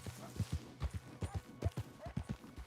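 Horse hooves clip-clopping at a steady walking gait in Red Dead Redemption 2, a regular pattern of close, distinct thuds with occasional faint snorts, alone without talk.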